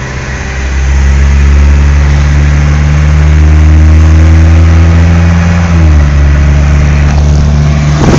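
A 1929 Dodge fitted with a Chevy Chevette engine idles, then revs and pulls away, a loud, steady mid-pitched engine drone with a gear change near the end and no talking.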